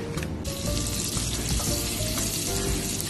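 Butter melting and sizzling in a pan for salted egg yolk chicken wings, loud close crackling and spattering with a few clinks and brief tonal squeaks, no voices.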